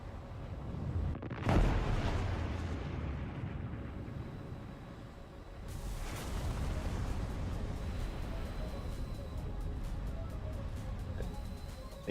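A B-52 drops bombs in a video game: one heavy, booming blast hits early and a second rumbling explosion follows a few seconds later, each trailing into a long, low roar.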